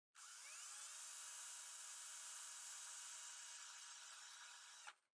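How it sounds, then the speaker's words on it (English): A small Bosch compact cordless drill whirs steadily at a high pitch for about four and a half seconds, close by, then winds down abruptly. "Let's try the little compact Bosch drill."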